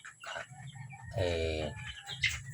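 Month-old Rhode Island White cross White Leghorn chicks cluck and peep near at hand, with a louder rooster-like crowing call in the middle and scattered chirps around it.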